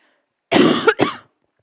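A single close, loud cough with a brief double burst, alone against silence.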